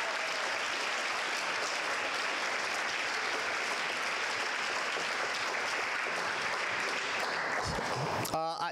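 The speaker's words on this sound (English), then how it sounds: "I almost took away his applause" Audience applause fills a school awards ceremony for outstanding educators, steady and dense clapping throughout, ending with a few scattered claps near the close.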